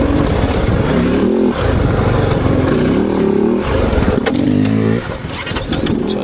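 A Kove 450 Rally motorcycle ridden off-road in an enduro setting, its engine loud and close with uneven revving and throttle surges, then a sudden drop in engine sound near the end as it stalls.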